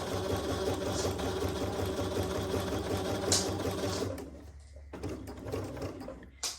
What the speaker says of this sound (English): so I'm going to do the zigzag stitch